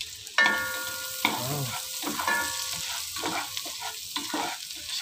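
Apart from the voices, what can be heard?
onions sizzling as they are added to the pan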